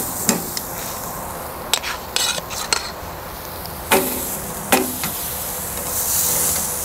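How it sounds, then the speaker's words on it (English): Lamb chops sear on a tripod grill with a steady background sizzle, punctuated by sharp metallic clanks and scraping of utensils against the grill at irregular intervals. "I'm going to sear it 3 minutes each side."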